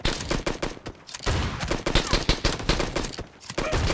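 Rapid bursts of M1014 shotgun fire in a PUBG Mobile team deathmatch, loud sharp blasts repeating in quick irregular clusters with brief pauses between volleys, overlapping shots from several weapons.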